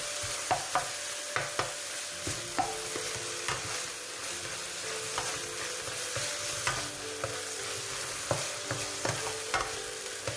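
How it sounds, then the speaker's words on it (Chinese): Minced garlic and onion stir-fry with beef in a hot pan, a bright continuous sizzle punctuated by regular clacks of a spatula against the pan, close and with no talking. "爆到啲蒜蓉洋葱差唔多啦，咁我哋咧就可以將佢 mix 埋一齊啦"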